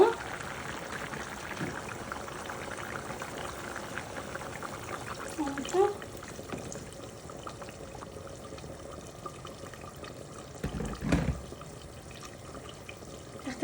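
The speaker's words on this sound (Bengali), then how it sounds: "এটার মধ্যে জাস্ট আমি একটু জল দিব" Water is poured into a simmering koi fish curry, a soft steady trickle running beneath faint kitchen background, with a couple of brief louder splashes midway and near the end.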